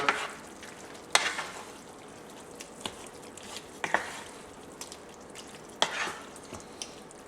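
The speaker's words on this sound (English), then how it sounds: "And we're going to give this a quick stir" Shrimp stirred into a spicy ranchero tomato sauce in a pan, with a quiet simmering hiss punctuated by a handful of sharp scraping and clacking stir strokes at irregular intervals.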